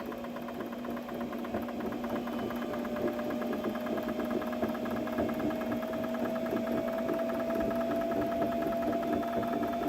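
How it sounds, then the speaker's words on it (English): A sewing machine hums steadily while winding thread onto its bobbin, a continuous, even mechanical whir with a fine rapid rattle, close and unbroken throughout with no voices. "See, we are threading the bobbin."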